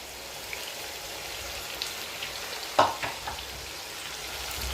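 Lemon juice hits chicken frying in a pan, producing a soft, steady sizzle with a brief, sharper hiss and crackle partway through, heard close with no talking.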